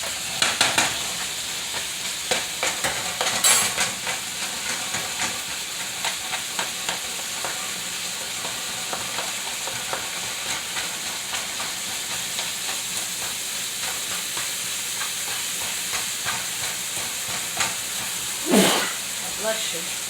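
Ground beef frying with peppers in a pan while a spatula stirs and scrapes, a continuous hiss and sizzle with intermittent scraping knocks and a sharper clatter near the end; people talk at times.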